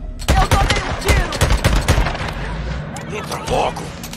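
Gunfire in the video game Days Gone: rapid bursts of loud shots and automatic fire crackling over and over, with players talking excitedly over the shooting.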